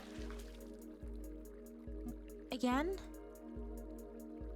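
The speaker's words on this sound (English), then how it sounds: "We're going to turn on hot water." Hot water runs from a tap in a plumbing job, a steady close trickle with repeating drips, briefly broken by a squeaky rising whine as a voice speaks.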